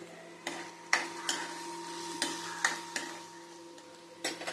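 Onions frying in a pan for Andhra-style bitter gourd stew, a faint steady sizzle punctuated by occasional sharp stirring clicks and scrapes, close and quiet, with a low background hum.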